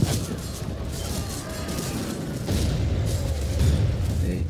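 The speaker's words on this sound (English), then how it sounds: "They keep being pummeled by mortar fire." Mortar fire pounds the battlefield in a Thirty Years War strategy game, with dull booms and rumbling impacts over a constant din of battle, louder in the second half.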